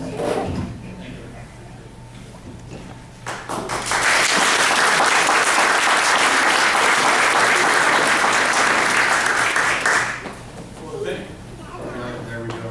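Audience applause at a talk on principles of liberty: quiet room and a voice at first, then dense loud clapping swells in and holds for about six seconds before fading, with murmured talk afterward.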